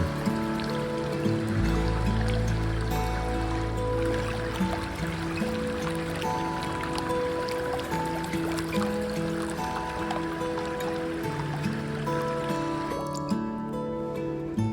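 Steady rushing water flows continuously, like a stream running over rocks, at Ban Khiri Wong village in Lan Saka, southern Thailand, with a constant hum in the background and no talking.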